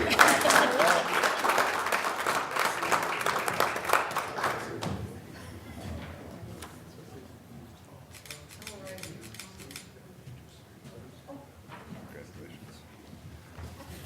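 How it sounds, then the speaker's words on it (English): Audience applause at a school board meeting, a loud burst of clapping for about five seconds that fades into quieter room noise with a few scattered claps and murmurs. "We can clap anytime you want."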